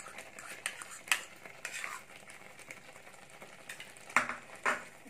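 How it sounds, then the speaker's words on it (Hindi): Full fat cream stirred into shahi paneer cooking in a pan over medium-low heat, a faint soft sizzle with scattered clinks and scrapes of a spoon against the pan, close and quiet. "क्रीम को अच्छी तरह से मिला लें।"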